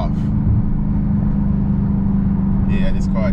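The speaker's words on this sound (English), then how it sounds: "Right there, the Supercharger just kept going as I had let off." A supercharged 2020 Dodge Charger Daytona Hellcat Widebody engine droning loudly and steadily from inside the cabin on a track after lifting off the throttle, a constant low rumble with a brief voice near the end.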